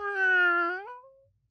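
A person imitates a cat's meow with a single drawn-out, tonal mew that holds steady and then slides upward as it trails off, close and clear with no other sounds.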